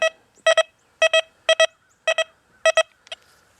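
A Deus 2 metal detector gives a gold-ring target signal as a series of sharp, clean electronic double beeps, repeated about six times in a steady rhythm over near silence.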